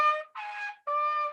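Trumpet played with the second valve pressed, making the sound exit from the side, producing three sustained, duller and breathier tones with short gaps, moderately loud and up close.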